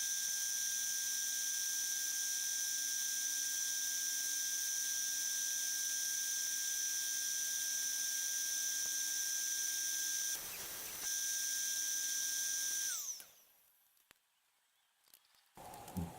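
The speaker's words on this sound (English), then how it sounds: "I'm using the crosscut sled to cut the little pieces for the safety blocks" A table saw fitted with a crosscut sled whines at a steady high pitch while it cuts small wood pieces, with a short cut near the end. The motor then spins down and cuts off, leaving quiet and a few faint knocks.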